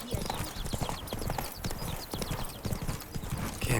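Hooves of Geralt's horse Roach clip-clopping at a steady gallop in The Witcher 3: Wild Hunt, a continuous rhythmic pounding with tack rattle, while a voice talks over it.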